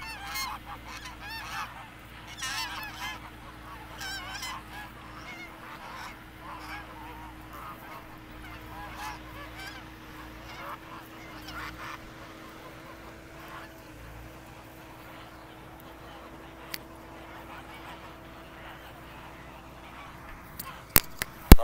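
A flock of domestic geese grazing near water honk repeatedly in scattered, overlapping calls at moderate distance, with a faint steady background hum.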